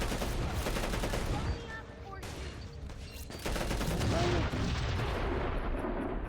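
Crackdown 2 video game combat with rapid bursts of gunfire and heavy explosions, loud and continuous, with a brief lull before the barrage resumes.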